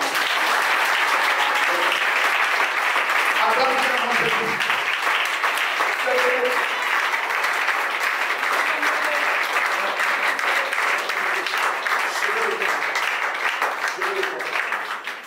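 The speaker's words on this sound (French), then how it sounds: "Est-ce que tu peux acclamer le Seigneur?" A church congregation applauds steadily and loudly for about fifteen seconds, a dense, sustained wash of many hands clapping together, with a few faint voices mixed in beneath the clapping before it tapers slightly at the end.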